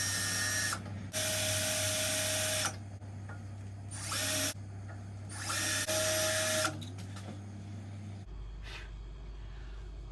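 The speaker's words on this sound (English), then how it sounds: "I'm going to get the drill, I'm going to put a few holes in" A power drill bores holes for fitting a battery cut-off switch on a racing lawnmower, whining in three or four separate bursts with quiet pauses between them.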